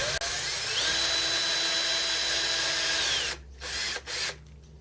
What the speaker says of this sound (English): I'm just going straight to a bottoming or a plug tap